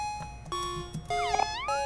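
Cartoonish cat meows from the video game Omori, several short electronic-sounding mews and a rising-falling sliding call, close and clear with no talking over them.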